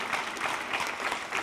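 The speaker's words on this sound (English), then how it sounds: "Can we clap for that, please?" Brief burst of audience clapping at a university celebration event, a moderate crowd applauding evenly in a hall for a short moment, with no talk over it.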